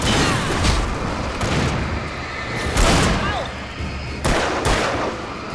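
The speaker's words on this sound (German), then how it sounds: "wechsle mal gerade wieder auf den Revolver" Revolver fire in the video game Alan Wake: three loud, sharp shots spaced a couple of seconds apart, each with a booming tail over a dark ambient background.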